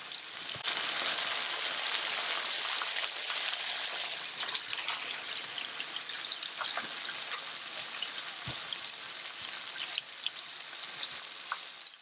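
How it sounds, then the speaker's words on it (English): Coconut milk pours into a pot of white rice and sets off loud, close frying and sizzling. The hiss is strongest in the first few seconds and then settles into a softer, bubbling crackle with scattered pops. "I'm gonna be adding some coconut milk to my white rice"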